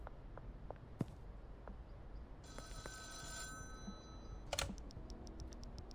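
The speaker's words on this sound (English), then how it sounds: "let's head towards the payphone" Payphone in the video game Schedule 1 ringing, a short electronic ring burst followed by a rapid series of repeated beeps, mixed with faint clicks and keyboard tapping in a quiet room.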